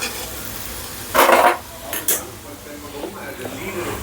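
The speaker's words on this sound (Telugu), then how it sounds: "సో ఇప్పుడు కొత్తిమీర పైన చల్లేసుకొని కలిపేసుకుందాం." A spoon stirring dal khichdi with coriander sprinkled on top in a pot, heard as a short scraping clatter followed by a couple of lighter clinks against the metal, with quiet pauses between.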